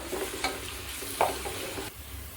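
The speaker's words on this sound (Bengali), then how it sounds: "তাই একবারে সব পেঁয়াজ ঢেলে দিলাম কিছু পেঁয়াজের বেরেস্তা উঠিয়ে রাখবো" Sliced onions sizzle steadily in hot oil while a spatula stirs them through the pan, with a few sharper scrapes and clacks over the continuous frying hiss; near and fairly quiet, no voices.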